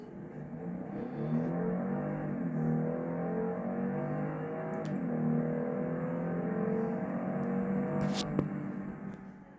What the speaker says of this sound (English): full throttle launches from a standstill are accompanied by no wheel spin as the wheels take grip